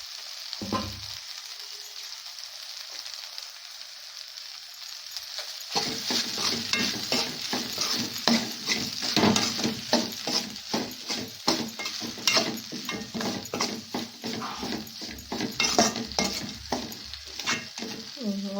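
Cooked okra mixed with grated coconut is stirred in a pan, a quiet start giving way after a few seconds to repeated close scraping strokes over a soft sizzle that carry on steadily to the end.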